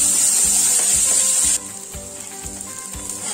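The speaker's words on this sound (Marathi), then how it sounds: "पेस्टला कांद्याला तांबूस कलर येईपर्यंत आपण हा कांदा परतून घ्यायचा" Onions sautéing in a pan for dhaba-style paneer bhurji sizzle loudly and close, then the hiss drops suddenly while soft rhythmic stirring scrapes continue beneath.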